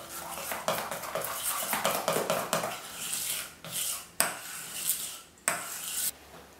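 Marble cake batter is mixed in a bowl with a utensil, making repeated scraping and knocking strokes at an irregular rhythm, with a few sharper clinks against the bowl's side.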